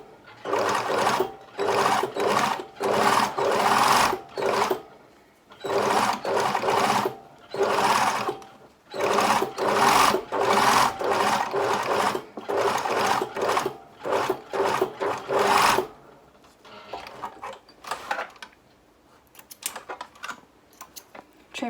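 A sewing machine stitches right along a fabric edge in a series of loud, close bursts of rapid needle chatter, each lasting a second or two with short pauses between, ending in quieter handling noises.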